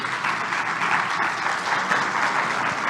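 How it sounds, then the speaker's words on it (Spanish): An audience at an insurance seminar on civil liability applauds three panelists with steady, dense clapping that fills the whole moment at an even level, with no voices standing out. "Un aplauso para ellos tres, por favor."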